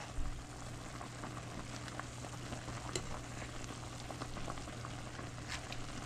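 Pot of Dollar Tree ramen noodles boiling in water: a continuous faint bubbling hiss with scattered small pops and crackles, steady throughout with no voices.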